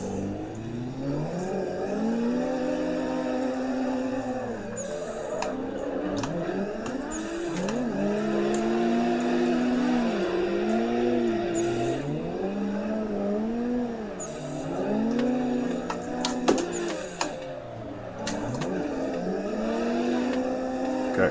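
Drifting cars in the racing game Assetto Corsa rev and wail with rising and falling engine pitch, layered with sustained tire squeal and occasional bursts of skidding, loud and continuous.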